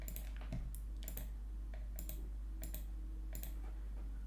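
Computer keyboard keys pressed during Photoshop and After Effects work, a handful of separate clicks spaced irregularly about half a second apart over a steady low hum, no talking.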